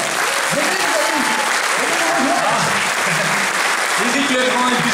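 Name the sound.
audience applause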